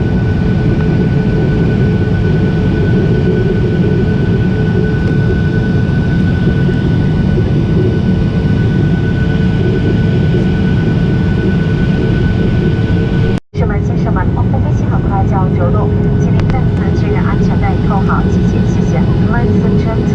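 Air China jet airliner taxiing at Incheon after landing, heard from inside the cabin as a loud steady roar of engines and rumbling airframe, broken by a brief dropout, with faint chimes or clicks afterward.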